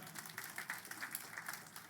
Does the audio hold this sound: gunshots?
no